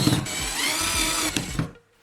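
Power drill boring through a plastic pipe, a steady close whine with a couple of brief load changes, cutting off abruptly near the end.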